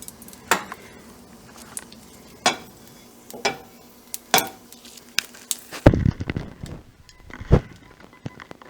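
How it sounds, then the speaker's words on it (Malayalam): Mustard seeds spluttering in hot coconut oil in a pan while tempering a Kerala-style pachadi: sharp, scattered pops and crackles close by, turning denser and louder toward the end alongside some clattering. "ഇതിലേക്ക് നമുക്ക് കടുക് പൊട്ടിക്കാനിടാം"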